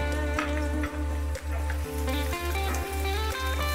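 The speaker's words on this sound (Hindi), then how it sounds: "इसमें हम प्याज डालेंगे। हमारा ऑयल गर्म हो चुका है" Onions frying in hot oil for a malai kofta gravy, a steady close sizzle and crackle with a constant low hum and regular soft thumps running underneath.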